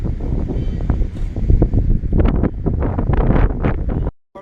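Loud, steady wind buffeting the microphone with gusty rumbling at an outdoor site with a parking area, no voices, cutting off abruptly near the end.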